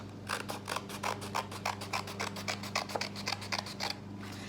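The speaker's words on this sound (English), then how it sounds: "So I'm gonna cut a little bit more off mine." Scissors trim green paper for a pop-up Mother's Day card in a quick, even run of close, crisp snips, about one every fifth of a second, with no talking.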